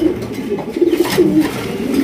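A light-colored pair of red chicken racer pigeons coo softly with a few low, throaty burbling calls in quick succession, close by over a faint background hum.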